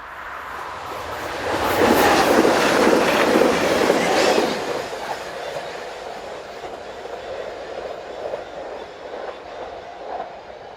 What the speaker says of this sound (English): As the train passes